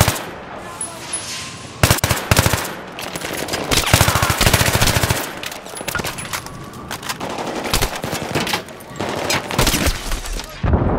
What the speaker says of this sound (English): That guy looks like he has a machine gun.